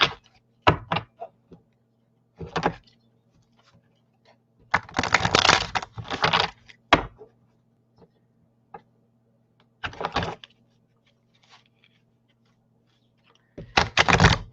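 A deck of spirit cards is shuffled up close in short, crisp bursts of riffling and shuffling, separated by quiet pauses.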